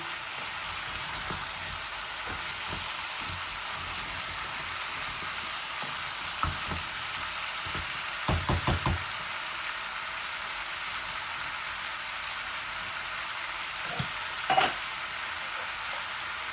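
Sweet pumpkin and prawns frying in a pan make a continuous close sizzle, broken by a quick cluster of scraping stirs and a few later knocks of the utensil against the pan.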